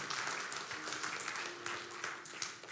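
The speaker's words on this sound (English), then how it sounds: "Can you clap your hands unto the Lord?" Church congregation clapping hands during a morning service, dense, steady applause-like clapping from many people filling the room at moderate volume.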